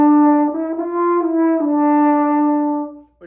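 A French horn plays one sustained, mellow tone that bends slightly in pitch a few times before stopping, heard up close with no talking.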